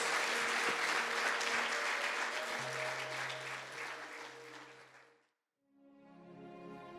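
A church congregation applauds for Jesus at the close of a sermon, a broad sustained wash of clapping with a low musical tone underneath, fading out abruptly before a soft keyboard-like chord sounds.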